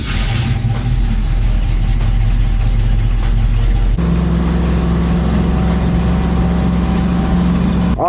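A Ford Mustang Fastback's engine rumbles steadily while driving on the street, a loud, continuous low drone that shifts to a deeper, heavier note partway through.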